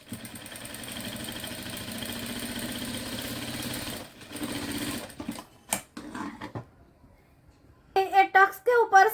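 A sewing machine runs steadily while stitching tucks on a blouse, a continuous mid-loud whir that stops around four seconds, followed by a few short bursts and brief speech near the end.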